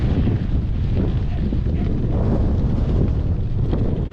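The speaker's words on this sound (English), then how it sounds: "It's a windy day for me to ride a bicycle too" Strong wind buffets the microphone during a bicycle ride in open country north of Gainesville, Texas, in a constant roaring rumble, loud and gusty throughout with no other clear sounds.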